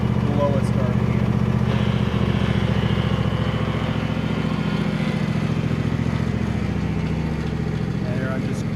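A John Deere E120 lawn tractor engine runs at its lowest RPM as it moves off, a steady close low putter with a fast even pulse, and a voice talking over it.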